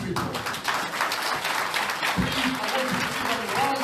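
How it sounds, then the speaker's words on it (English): An audience at a London town hall meeting claps in steady, continuous applause, with a voice speaking over it throughout. "put a round of applause to these people"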